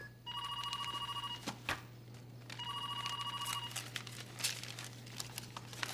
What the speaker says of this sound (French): Décroche le téléphone, Cathy.